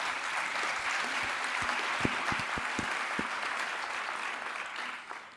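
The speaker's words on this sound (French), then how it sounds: "On peut d'abord applaudir Bernard." An audience applauds for Bernard at a professional gathering on cooperation between youth leaders and directors, a steady clapping wash running about five seconds with a few louder individual claps before it tapers off, fairly soft overall.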